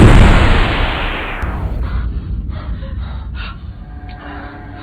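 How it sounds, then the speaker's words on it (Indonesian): A loud burst like a gunshot at the start, its boom decaying into a rumbling tail with faint noises over the next few seconds. "Mendengar suara tembakan, Magda pun jempe"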